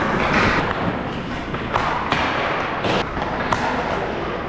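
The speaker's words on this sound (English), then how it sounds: "I'm gonna shoot into your chest" Youth ice hockey goalie training on the rink: pucks shot into the goalie's chest land as repeated dull thuds and sharp impacts, several in a row at close range over steady rink ambience, with no talking.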